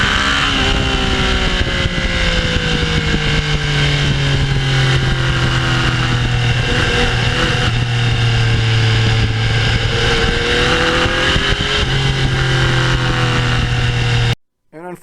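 A stock Yamaha MT-09 naked motorcycle with 20,000 miles cruises on back roads, its engine droning loudly and continuously with gentle rises and dips in pitch as it holds speed, cutting out abruptly at the very end.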